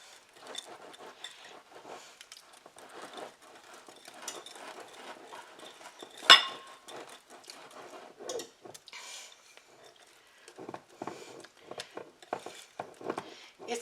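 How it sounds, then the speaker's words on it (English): A spoon or whisk works chocolate pudding cake batter in a bowl until smooth, with quiet rapid scraping and tapping strokes, one sharper clink near the middle. "we're just going to mix this up until it's fairly smooth"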